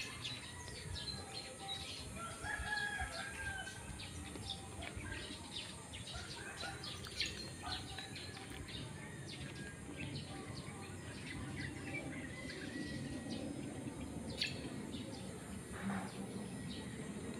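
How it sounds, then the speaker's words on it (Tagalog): Small birds chirp and twitter off and on in a quiet village setting with few houses, light and somewhat distant over a steady low background hum. "may mga ibon-ibon."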